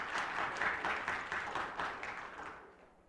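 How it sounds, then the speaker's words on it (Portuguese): Audience clapping at a seminar: a steady burst of many hands with a loose pulsing rhythm, fairly close, slowly tapering off toward the end. "Palmas para ela, porque o desenho dela foi sensacional."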